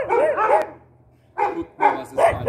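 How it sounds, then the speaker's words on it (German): A female shelter dog barks and yelps several times up close, first a quick pair of barks, then a pause, then three more sharp barks in a row. "Guck mal, was es für eine tolle Hündin ist."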